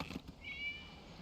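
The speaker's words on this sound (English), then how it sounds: "It was just a cat." A cat meowing in a video game, one short high-pitched meow, faint and alone over a quiet background.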